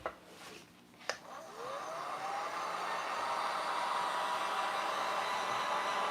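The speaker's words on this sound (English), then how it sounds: "Let's get our heat gun." A heat gun blows steadily to dry orange acrylic paint on an upcycled tin can, rising from a few light knocks into a continuous close, loud whooshing roar that holds without a break.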